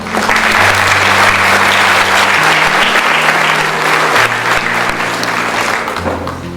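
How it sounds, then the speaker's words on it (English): Loud, sustained applause from an audience at a school awards day, steady dense clapping over a low hum of music or crowd murmur, tapering slightly near the end. "we put our hands together to applaud this family that has done this school so proud"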